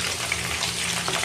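Chopped onions frying in oil in a pan, a steady close sizzle with a dense crackling hiss throughout and no voices.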